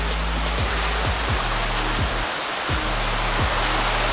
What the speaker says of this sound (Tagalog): Ayan ang falls sa Sulcok Falls.